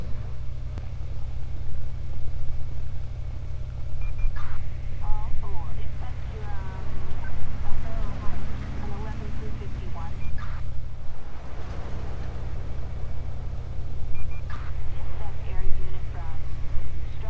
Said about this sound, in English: We're gonna back our car up right here